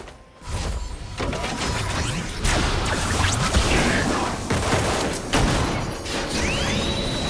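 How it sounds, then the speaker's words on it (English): A turret crumbling in League of Legends, a long loud rumbling crash of debris and impacts with sweeping tones, steady and close throughout. "Blue team's turret has been destroyed."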